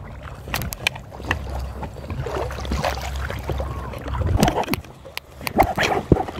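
Kayak paddling on the Macleay River, a run of uneven splashes and dips of the paddle in the water with a low rumble of wind and the boat under them, fairly close.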